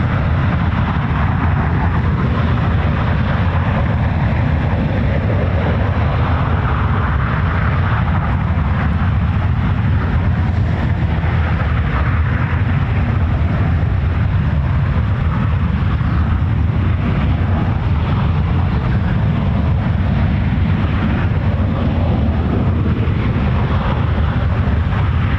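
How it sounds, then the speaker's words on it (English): Eurofighter Typhoon FGR4 jet engine on a ground test run at RAF Coningsby, a steady, loud, continuous roar heard from a distance with wind buffeting the microphone and no talking. "That was engine 2 being tested there."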